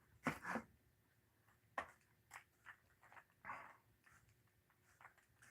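A dog gives several short, low barks and growly yaps at moderate distance, the loudest near the start and softer ones scattered after, with quiet room noise between.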